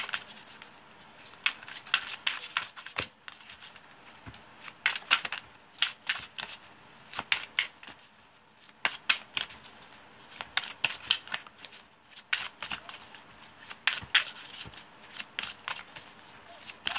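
Tarot cards shuffled by hand in repeated bursts of crisp riffling and flicking, close and fairly quiet, with short pauses between rounds.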